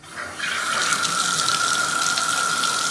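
A bathtub faucet is turned on after a diverter repair, and water gushes out in a steady, loud, hissing stream that carries on without a break.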